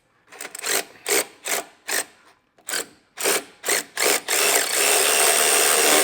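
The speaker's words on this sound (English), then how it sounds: "We're going to use a 3/4 inch socket with a regular ratchet, a power ratchet." A power ratchet fitted with a 3/4 inch socket tightens a track adjuster on a power dolly, whirring in about nine short bursts before running in one continuous buzz.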